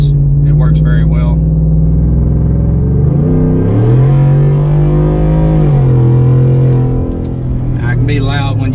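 A 2018-2020 Ford F-150 with a Corsa Extreme bolt-on exhaust rumbles deeply and revs up and down, its loud, throaty engine note rising and falling close by, with someone talking over it.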